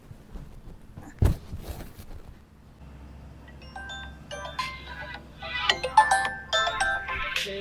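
A mobile phone ringtone from an incoming call during a prank: after a sharp knock and a quiet pause, a tinny melodic ring with bright repeating tones grows louder and keeps going over faint background noise.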